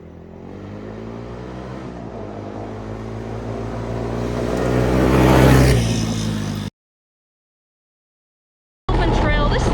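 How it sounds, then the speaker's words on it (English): A Honda Recon ATV with a 230cc single-cylinder engine drives along an open trail, its steady harmonic drone rising and growing louder before cutting out abruptly, then resuming briefly. "I think for a 230cc single-cylinder engine, it would be pretty jittery, but it's actually very smooth"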